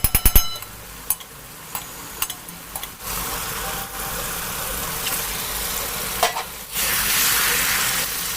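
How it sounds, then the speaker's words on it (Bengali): Chicken with bottle gourd and tomato sautéing in a pan; a run of sharp utensil clicks and scrapes gives way to a loud, steady sizzle that swells near the end, with no talk. "এই লাউ আর টমেটোর সাথে চিকেনটাকে আমি আরও 2 মিনিট কষিয়ে নেব।"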